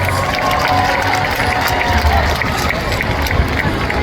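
A large audience at a SeaWorld orca show applauds and cheers for volunteers, a dense, loud, continuous wash of clapping and crowd noise throughout.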